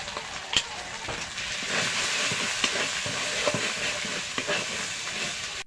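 Ground spices (chilli, cumin and coriander powder) sizzle steadily in a pan for chicken biryani, with a spoon scraping and stirring in repeated strokes, close and fairly loud throughout with no one talking.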